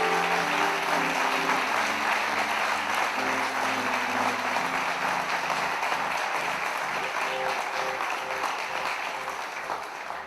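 Sustained applause from a church congregation fills the space loudly and steadily for about ten seconds, with dense clapping and some crowd noise over a low musical backing.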